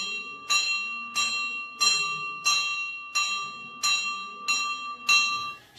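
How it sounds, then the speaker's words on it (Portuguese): A bell struck repeatedly by a popular culture master in Ceará, Brazil, ringing seven clear metallic strokes at a steady, even rhythm, each tone ringing on briefly before the next hit. "hoje eu estou de folga de batina, vou bater o sino"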